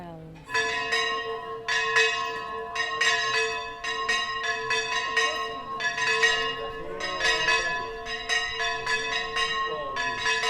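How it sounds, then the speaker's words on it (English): Church bells ring in repeated bright clanging strikes, fairly close and insistent, in the Costa del Sol area of Spain, with faint wind and background noise between the peals. "The bells."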